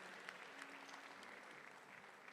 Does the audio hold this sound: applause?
yes